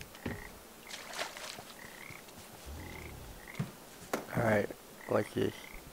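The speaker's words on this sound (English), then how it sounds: "Oh, I can get you your frogs now" Frogs croak in the video game Papo & Yo, a string of short, nasal calls spaced through the scene, some faint and some louder, with a cluster of stronger croaks near the end over quiet background ambience.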